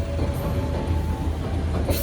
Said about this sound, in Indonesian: Kereta tambahan Gambir Yogyakarta ya teman-teman.